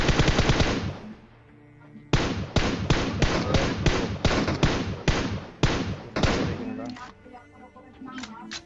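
Rapid bursts of M4 assault rifle fire in the PUBG battle royale game, loud and close, with one short burst followed by a long string of evenly spaced shots, then scattered fainter reports.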